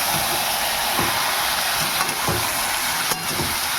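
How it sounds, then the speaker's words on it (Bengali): Mutton tipped into a pan of onions, frying with a continuous dense sizzle and a few soft stirring knocks, close and moderately loud, no talk. "এবার আমি মাংসটা এর মধ্যে দিয়ে দেবো।"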